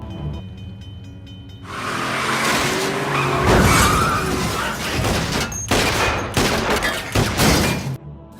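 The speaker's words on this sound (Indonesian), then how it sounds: "Sebuah mobil yang melaju kencang tiba-tiba menabrak mobil Frank dari belakang." A speeding car rams another car from behind in a loud, sustained burst of engine roar, tire skids and crunching impact noise, followed by sharp bangs and debris clatter.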